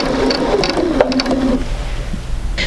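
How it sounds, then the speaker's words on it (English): Sewing machine stitching quilt fabric for a Drunkard's Path quilt block, a steady close mechanical whir running throughout with faint stitching ticks and no talking. "And I'm going to sew all the way to the end."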